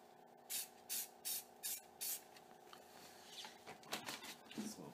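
Brown spray paint being sprayed through a stencil in cold weather, with five short, evenly spaced hissing bursts followed by quieter, more irregular spritzes.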